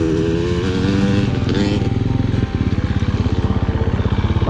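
Dirt bike engine climbing a high-country trail in Colorado, revving loud and close, then settling into a steady, rapidly pulsing throttle with no talk over it.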